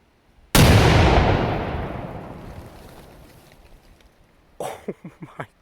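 An XXL firecracker set off against a lock blasts with one sudden, very loud boom, and its rumble fades slowly over several seconds. A short burst of sharp, clattering sounds follows near the end.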